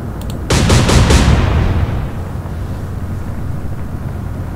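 Naval gunfire in the Atlantic Fleet game, a rapid volley of four loud heavy booms in quick succession, then a long rumbling decay into low ambient sea noise.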